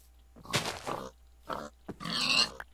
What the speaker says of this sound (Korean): 돼지가 참 많다